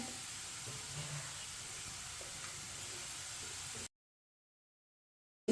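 Whole cumin and coriander seeds sizzle in hot oil with lightly browned onions, a steady close hiss and crackle that runs evenly before cutting to silence, with a brief burst of noise at the very end.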